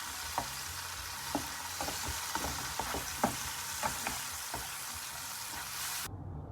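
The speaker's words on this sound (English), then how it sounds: "Now we're going to mix it." Omelette ingredients such as vegetables and salt are stirred together in a bowl, giving soft, irregular clicks and scrapes over a steady hiss, then cutting off abruptly.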